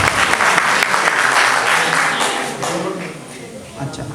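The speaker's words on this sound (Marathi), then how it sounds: "Ladies and gentlemen, please जोरदार टाळ्या झाल्या पाहिजे पारवीसाठी." An audience applauds for a young performer named Paravi at a stage show, a dense, steady clapping that swells and then gradually thins, with some voices mixed in.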